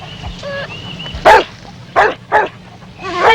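Timmy the dog barks in four loud, sharp bursts spaced across a few seconds, with a faint whimpering whine between them, close by in a quiet farm setting.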